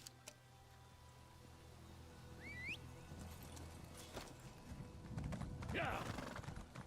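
Horse hooves clip-clop steadily while riding in the video game ESO, with a short neigh partway through and a voice speaking in the background.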